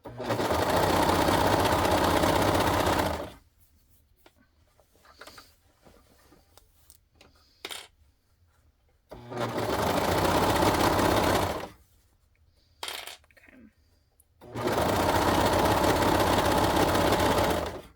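A sewing machine stitches fabric onto an elastic waistband for boxers, running in loud, steady bursts of rapid mechanical whirring, stopping twice for quiet gaps of small handling noises before starting again.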